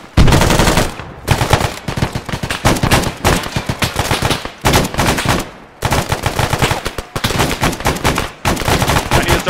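M60 machine guns fire long, loud, close bursts of rapid shots with only brief gaps between them, a sustained, overpowering rattle.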